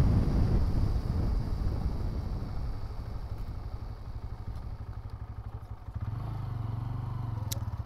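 A 2024 Bajaj Pulsar N125 motorcycle on the move gives a steady, throbbing engine drone mixed with buffeting wind noise, the engine note dipping and picking up again near the end.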